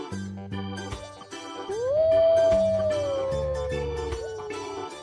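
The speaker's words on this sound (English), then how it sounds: "Wolf." A wolf sends out a single long howl that rises and then slowly falls, set against a soft, steady background with intermittent low thumps.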